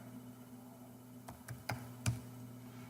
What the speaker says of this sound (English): And I'm simply typing the same way, right?